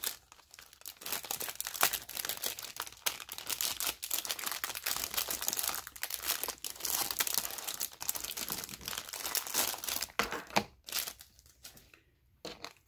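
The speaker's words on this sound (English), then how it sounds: "we are going to open this very cute embellishment box" A paper-backed embellishment box for crafting is opened, giving a steady run of close, crisp paper crinkling and rustling that continues for most of the stretch before thinning out into brief quieter handling near the end.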